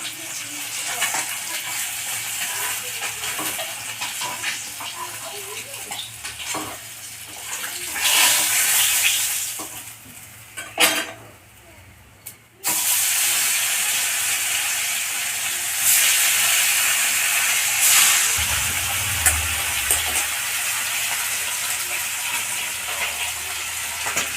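Sarputi fish frying in hot oil gives a steady, loud sizzling hiss. It drops out briefly partway through, then returns with some low sputtering.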